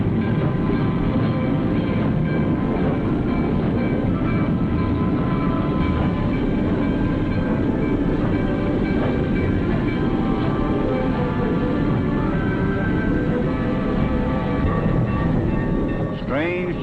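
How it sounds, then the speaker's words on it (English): A New York, New Haven and Hartford Railroad train in 1942 rumbles steadily along the rails, a continuous heavy roll with faint tonal squeals and clatter throughout, close and loud. "hundreds of passenger trains are made up every day, in addition to hundreds of freight trains"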